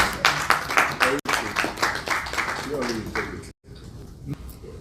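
An audience at a hospitality conference in Nigeria claps together in an irregular patter of applause, heard under a voice talking, before the clapping stops abruptly.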